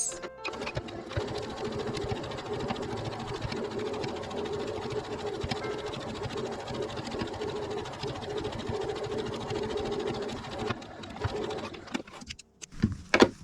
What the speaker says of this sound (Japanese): 上になっている方を縫います。